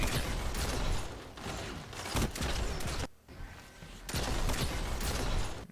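Bursts of rapid gunfire from a Destiny Crucible multiplayer match, dense volleys of shots in quick succession with a brief lull in the middle before firing resumes, no talking.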